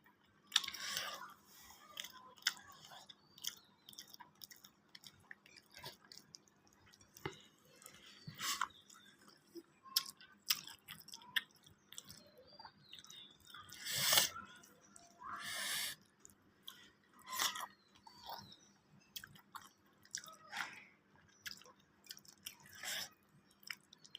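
Someone eating rice with chicken, giving soft, intermittent chewing and mouth noises up close over a quiet background, with occasional sharper clicks.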